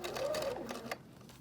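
A sewing machine stitches through thick rag quilt fabric in a quiet, brief, rapid mechanical whir close by.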